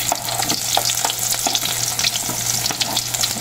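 Garlic and onion fry in hot oil with a loud, continuous sizzle and crackle, while a spoon repeatedly stirs and scrapes the pan up close, cooking the base for squid adobo.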